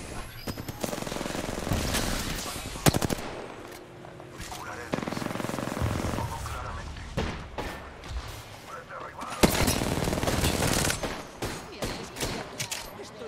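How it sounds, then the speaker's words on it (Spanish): Heavy gunfire in an Apex Legends duos match, rapid bursts and single loud shots stacking over several seconds with thumps and impacts, game voice lines and talk mixed in. "Recibiendo disparos."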